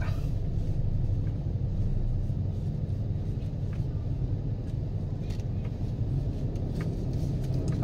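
A motor tricycle's engine runs nearby while its tank is filled almost to full, giving a steady, continuous low rumble with no break for the whole stretch.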